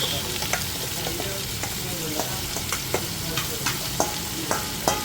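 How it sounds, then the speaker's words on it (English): Onions and whole spices fry in oil in a Kolkata restaurant kitchen, giving a loud, steady sizzle up close with regular scraping strokes of a utensil stirring the pan, and no talk. "And now your prepared onions with the whole spices."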